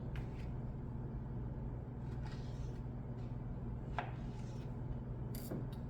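A knife cuts dry aged backstrap into serving-size pieces, with a few soft, scattered chopping taps on a board over a low steady background hum.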